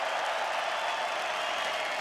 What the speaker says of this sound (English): A round of applause for both fighters in this middleweight contest.